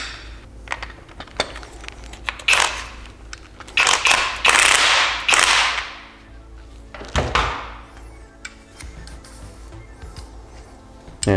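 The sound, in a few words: tightening the pillow ball mount on an S14 240SX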